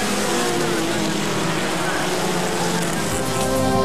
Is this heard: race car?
yes